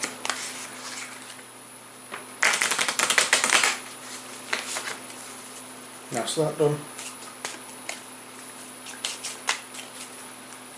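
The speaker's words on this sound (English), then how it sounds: "I'm just shuffling, just to make it look as though I can't shuffle to save my life" A deck of monster cards for the Castle Ravenloft board game is riffled in a quick, crisp burst, then shuffled again briefly; a person speaks a few words between shuffles.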